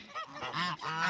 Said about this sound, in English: The geese are really enjoying when I bring water out to them.